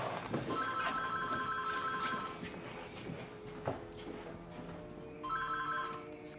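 A telephone rings late at night with two bursts of a trilling electronic ring, one at the start and another near the end, separated by a quieter pause with faint background sounds.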